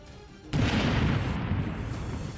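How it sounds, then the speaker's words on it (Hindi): A landmine laid on a road is deliberately detonated, giving a sudden loud blast followed by a long, heavy rumbling roar that slowly fades. "इस दौरान वहां तेज धमाका हुआ।"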